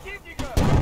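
Explosions and gunfire in the video game Battlefield Bad Company 2: two sharp, loud blasts a fraction of a second apart, the second heavier and rumbling on, over a low background of in-game noise.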